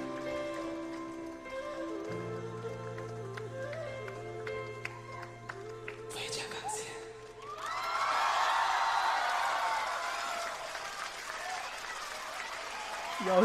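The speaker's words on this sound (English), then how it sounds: "He's just getting a standing ovation" A concert audience rises into a standing ovation, with loud applause, cheering and whoops swelling in the second half after quieter music and a few voices.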